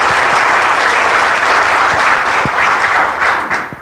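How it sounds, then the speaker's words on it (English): Audience applause at a live event at the Castle Museum of Saginaw County History, a steady round of clapping from a crowd held at full level for nearly four seconds before starting to fade at the end. "if we could give them a round of applause because they continue to lead the organization"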